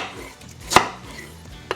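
A knife chops a Korean radish of about 400 to 500 g into chunks on a cutting board, one sharp close knock standing out, then a fainter second knock near the end.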